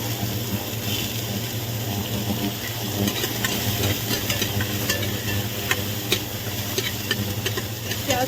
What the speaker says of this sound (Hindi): प्याज को सुनहरा ब्राउन होने तक मैं इसको फ्राई करूँगी